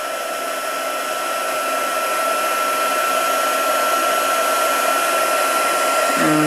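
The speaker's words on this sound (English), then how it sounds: "heat gun, which I will warm up, so warning, heat gun noises" A heat gun blowing hot air for card-making, a loud, steady whooshing drone with a constant motor hum, close by and uninterrupted throughout.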